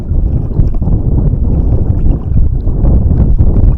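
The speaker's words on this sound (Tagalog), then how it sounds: "Medyo mahangin na naman," Strong northeast monsoon wind buffets the microphone in a constant low rumble, with faint splashing of water from a small rowed boat at sea.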